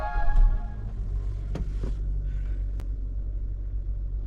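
A 2025 Maruti Victoris VXI CNG car's engine starts, settling into a steady low rumble close by, with a few sharp clicks and knocks over the idle and no talking.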